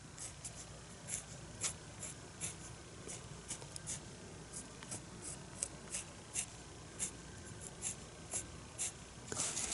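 A sharpened coloured pencil scratches across paper in short, repeated strokes, quiet and close, with brief pauses between bursts and no talking.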